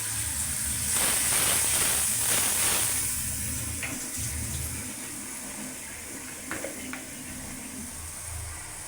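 Water pours and splashes into a hot pan of frying onion and cumin paste, a rushing hiss for a few seconds that settles into a softer, steady simmer.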